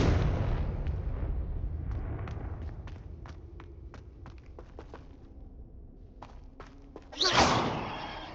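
In Hogwarts Legacy, a Confringo fire spell bursts with a loud, bright blast near the end, after a stretch of low rumbling combat noise punctuated by sharp impacts and thuds.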